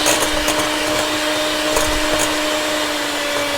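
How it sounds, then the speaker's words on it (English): Electric hand mixer whipping egg whites in a bowl, a steady close-up motor whine with a constant hum that runs loud and unbroken throughout, with no talk. "The egg whites and a hand mixer like this."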